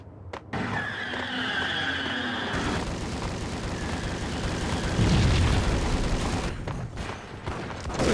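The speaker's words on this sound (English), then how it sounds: "I think there's a street racing scene." Loud street racing cars in the Max Payne video game, engines roaring continuously with tyre screeches and a heavier crashing burst midway, no talk over it.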